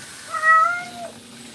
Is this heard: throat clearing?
no